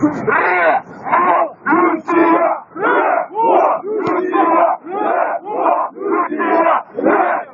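A large protest crowd on Bankova street chants loudly in unison, sounding as a steady series of short rhythmic bursts with brief gaps, close and dense with many voices.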